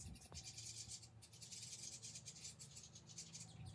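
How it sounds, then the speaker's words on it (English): Baby birds chirping outside on a patio at a friend's house, a faint, busy stream of high twittering calls that runs without pause, heard at a distance with no talk. "Baby birds, see if you can hear them."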